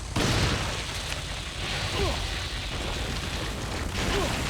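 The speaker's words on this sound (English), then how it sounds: "Let's burn more shotgun ammo, I guess." Shotgun blasts in the video game Resident Evil 4 start with a heavy boom, followed by rumbling, crackling game noise, with a voice faintly present.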